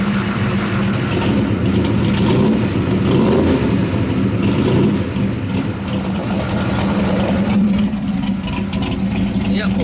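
A 1976 Chevrolet Corvette C3 engine, warmed up to temperature, idles steadily with a low, even rumble, close by, with a little background noise over it.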